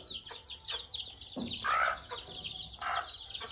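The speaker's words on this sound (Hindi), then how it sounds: "जब भी हम अंदर आते ना तो हमारे चूजे वूजे जितने हैं ना सभी दौड़ के चले आते" Chickens and chicks cluck and cheep in short, close bursts while being fed rice, several calls overlapping with brief pauses between them.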